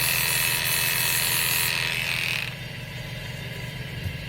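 Steady mechanical buzz of electric pet grooming clippers running close by, with a hissing spray onto the clipper blades over the first half that then stops, leaving the hum alone.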